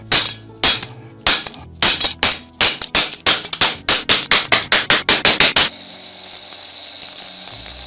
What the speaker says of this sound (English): put my screwdriver on there and hit it.